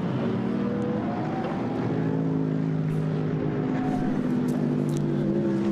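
GT race cars including a BMW Z4 and an Audi at full speed around the twisting Nogaro circuit Paul Armagnac, a steady loud engine drone with harmonic whine holding throughout, no voices.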